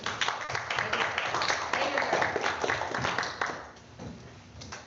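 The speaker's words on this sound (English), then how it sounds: "We can give them a round of applause." Applause from attendees at a school board work session, a dense patter of many hands clapping at moderate distance that runs steadily for several seconds before thinning out toward the end.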